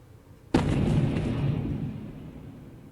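A Ukrainian drone explodes in central Moscow, caught from a car's dash cam: one sudden loud blast with a deep, rumbling body that rolls on and slowly fades over a couple of seconds, with no voices.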